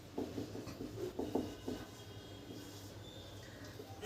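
Pen strokes scratch on paper as a sentence is written by hand, soft, close and faint, coming in short bursts of rubbing strokes with pauses between them and no talk.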